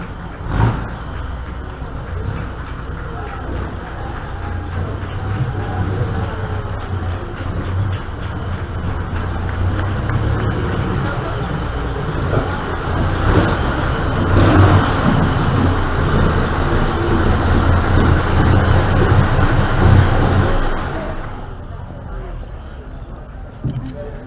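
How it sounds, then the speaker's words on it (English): Vintage 1913 Cotton et Degout race car with an Isotta Fraschini engine rumbles and revs loudly and close at a concours event, a rough continuous roar rising midway then cutting off near the end, with people talking over it. "a 1913 Cotton et Degout race car. Isotta Fraschini power."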